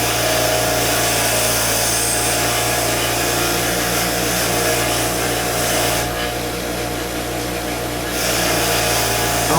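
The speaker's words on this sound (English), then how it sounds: "All shined up on the wire wheel here." A bench-mounted wire wheel polishes a diecast model part, giving a loud, steady grinding whir that runs the whole time with a brief dip in tone partway through, and no talking.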